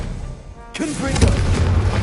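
A Confringo blasting curse in a wizarding video game goes off with a sudden loud burst, then settles into a rumbling, crackling blast that lasts about a second and a half while a voice talks over it.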